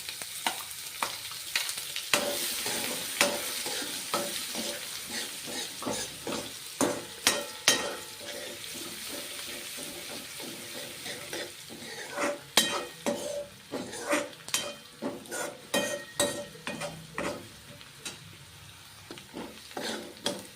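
Onions frying in a pan and being stirred, a close sizzle punctuated by repeated spoon scrapes and clinks against the metal, louder in bursts and with no talking.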